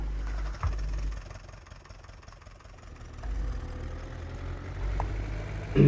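A tractor engine starts and idles in the Farming Simulator 19 video game. It gives a low, faint, steady rumble with slight swells and no one speaking.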